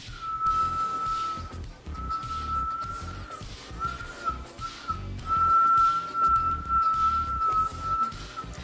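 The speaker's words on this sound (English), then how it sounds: "Can you whistle? I can sometimes. Let's see if it'll happen." A person whistles a long, wavering tone with short breaks, close by, over low background rumble.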